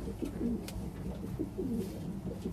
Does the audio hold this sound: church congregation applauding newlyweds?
no